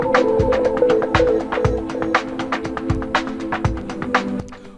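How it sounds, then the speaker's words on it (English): Omnisphere keyboard notes played over a Stylus RMX drum loop, with tapping percussive hits and sustained tones drifting out of time against each other, moderately loud and with no talking. "I'm playing the keyboard right now, and it's not syncing up whatsoever."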